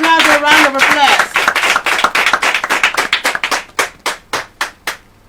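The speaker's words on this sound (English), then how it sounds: "A round of applause." Audience at a girls' secondary school oratory competition grand finale claps after a score is announced; the applause starts under a voice, then thins into a few loud, separate claps that fade out.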